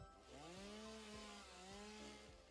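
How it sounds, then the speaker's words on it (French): A chainsaw cuts in the video game Satisfactory, with a loud motor whine that rises in pitch and holds steady while it cuts, repeating in short pulses with no talking over it. "À la tronçonneuse."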